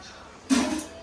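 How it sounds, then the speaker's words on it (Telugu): A short splash of liquid hitting a pan, starting abruptly and fading over about half a second against a quiet background. "కొంచెం వాటర్ పోసుకుంటున్నా"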